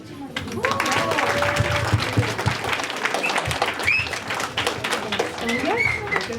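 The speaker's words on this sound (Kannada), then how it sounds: "ಹೀಗೆ ಚಪ್ಪಾಳೆ ಬರ್ತಾ ಇರಲಿ ನಮ್ಮೆಲ್ಲ ಪುಟ್ಟ ಮಕ್ಕಳಿಗೆ" An audience at a Deepavali community event in Great Britain claps for children in sustained, dense applause that holds steady throughout, with a voice and some whistles or cheers rising above it.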